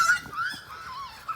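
A goose honks up close in a few short, nasal calls across a brief moment outdoors.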